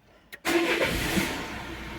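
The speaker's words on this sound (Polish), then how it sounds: "Zaraz odpalimy i zobaczymy, co nam powie samochód." A Peugeot 3008 car engine cranks briefly, then catches and settles into a steady idle, close and fairly loud with no voices.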